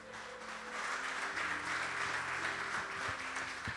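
A church congregation bursts into loud, sustained applause, a dense roar of many hands clapping that swells and holds for a few seconds, heard up close with organ or keyboard tones ringing beneath.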